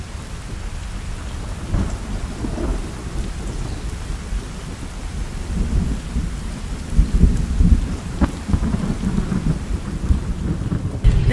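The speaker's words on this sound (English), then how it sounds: "Rain is so annoying" Steady heavy rain with rolling thunder in a spring storm, a dense low rumble swelling and cracking louder toward the end, no talking.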